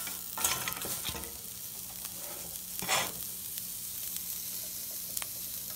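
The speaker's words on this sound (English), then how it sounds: "And I'm using medium heat to cook this Karela now." Bitter gourd (karela) sizzles steadily over medium heat in a pan, with a continuous frying hiss and a few louder stirring scrapes and clatters near the start and middle, no talking.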